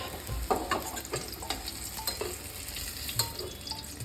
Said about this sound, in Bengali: উচ্ছেটা আবার ভেজে নেব